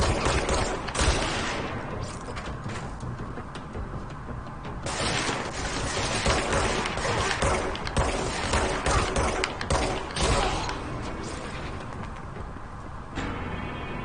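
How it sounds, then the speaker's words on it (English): Dense combat gunfire in the video game Control rattles on continuously, loud and chaotic, with bursts of shots, crashes and impacts layered together. "Yep, that's the sound of combat starting."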